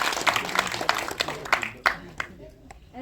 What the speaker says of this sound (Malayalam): പടം ഇഷ്ടപ്പെട്ടെങ്കിൽ ഒരു ക്ലാപ്പ്.